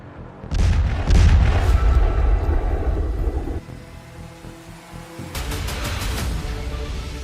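Heavy Bofors artillery fire, with deep booming blasts rolling in close together near the start, a brief lull, then another burst of loud reports with a lingering rumble and no voices.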